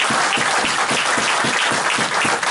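A church congregation applauding during a worship service, dense continuous clapping from many hands filling the room evenly and steadily, with no voices over it.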